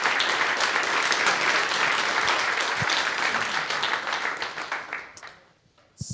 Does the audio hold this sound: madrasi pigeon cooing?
no